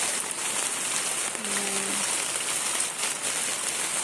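Steady hiss of rain falling on surfaces, continuous and even throughout, with a brief faint tonal sound in the middle.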